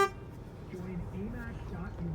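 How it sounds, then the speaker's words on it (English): A car horn honks briefly over a steady engine hum and background voices. "Alright, I'm gonna honk."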